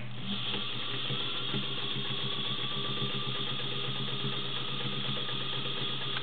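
A vintage White Model 265 sewing machine runs a zigzag stitch, a steady, continuous mechanical whir with fast rhythmic clatter, fairly quiet and close, with no talk.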